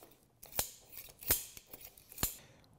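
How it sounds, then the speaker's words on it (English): Excess locking wire snipped off with cutters while fitting a turbo blanket on a BMW B48 engine: three sharp, close metallic snips a moment apart, with quieter clicks between them. "repeat the same locking wire process and then cut the excess off"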